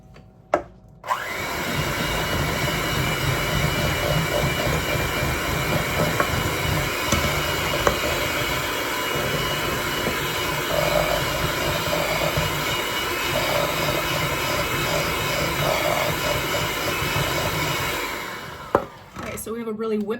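An electric mixer whirs steadily through cream cheese filling for cranberry rolls, a loud continuous motor drone with faint scraping that lasts almost twenty seconds before it cuts off near the end.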